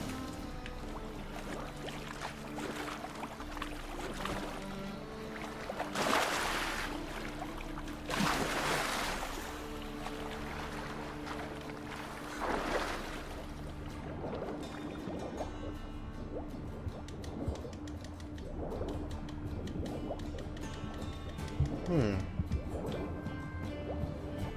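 Swimming through oily harbor water in The Witcher 3, with soft repeated splashes and dripping strokes over a steady low ambient hum, a few louder surges of water in the middle.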